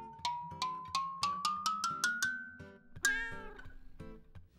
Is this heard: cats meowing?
yes